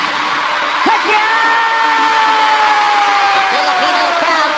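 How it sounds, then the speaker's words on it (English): A Filipino crowd at a boxing event chanting for Manny Pacquiao, a loud continuous roar of massed voices with whoops and sustained yells, dense and steady throughout. "Filipino crowd chanting for Pacquiao."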